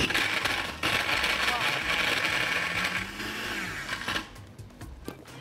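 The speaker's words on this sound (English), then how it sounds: "I've not heard the blender make that noise before" A kitchen blender churns ice and milk in a loud, steady grinding whir that runs throughout, then eases and changes pitch near the end, with people talking over it.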